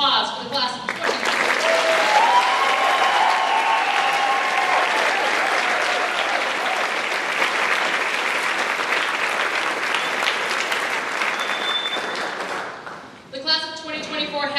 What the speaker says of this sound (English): applause for the class of 2019